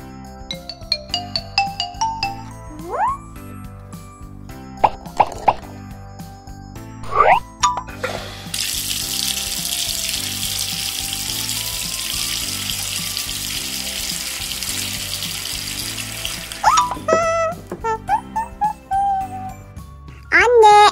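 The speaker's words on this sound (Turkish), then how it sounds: "Elmaları yıkayalım." Tap water runs steadily as apples are rinsed during a Peppa Pig toy pie game, a broad rushing flow lasting several seconds, bracketed by a child-voiced narrator talking and playful toy-voice chatter.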